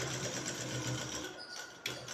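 A sewing machine stitches the collar of a shirt, a fast steady mechanical whir close by that slows briefly near the end before resuming.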